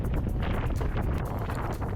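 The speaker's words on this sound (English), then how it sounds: "The wind is northwest force 4, probably gusting force 5 under those big black clouds." Wind at sea blowing northwest force 4, a steady loud rushing roar buffeting the microphone throughout, with gusty swells and no speech.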